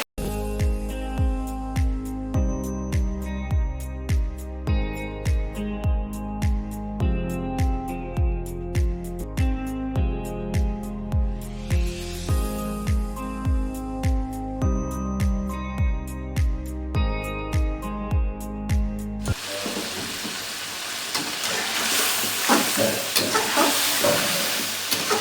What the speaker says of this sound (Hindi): चिकन को तब तक फ्राई करेंगे जब तक इसका कलर चेंज ना हो जाए।